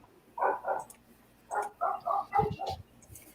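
A dog named Charlotte barks in several short bursts at moderate distance, a few yips mixed in, apparently after chasing a squirrel outdoors; the room is otherwise quiet.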